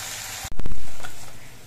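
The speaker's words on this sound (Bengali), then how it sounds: "এই বড়াগুলো একইভাবে ভেজে নেব" A stuffed ash gourd leaf fritter (bora) meets hot oil with a sudden close crackle, then the sizzle swells loudly and slowly fades over the next second.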